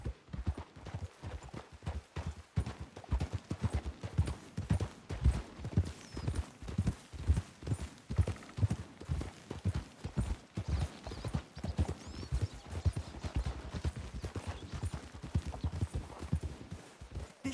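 Horses' hooves clip-clop steadily in the video game Red Dead Redemption 2, a regular, moderately close walking rhythm that continues throughout, with a brief whinny and faint background ambience.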